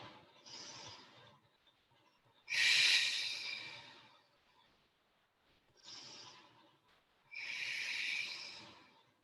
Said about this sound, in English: So I've gone from nasal breathing to exhaling through my mouth on those ones.